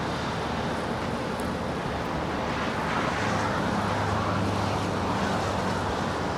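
An 11-year-old Air New Zealand Boeing 777-300ER on final approach to Los Angeles LAX gives a steady, broad jet roar that swells slightly partway through, with no talk.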